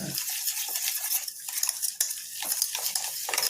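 Ghee and cane sugar are blended in a bowl for ragi biscuits, giving close, continuous scraping and stirring strokes with small clinks of a utensil against the bowl.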